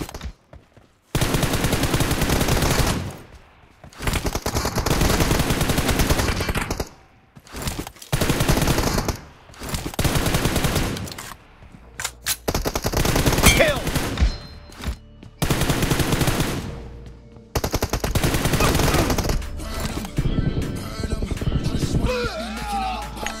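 Long bursts of automatic gunfire in a mobile shooter video game played on a Samsung phone, loud and repeated with short pauses between sprays and occasional single shots.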